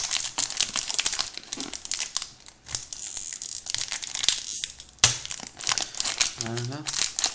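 A Pokémon Groudon booster pack wrapper being torn open and crinkled, with loud, close crackling and rustling bursts of foil plastic alongside a person talking throughout.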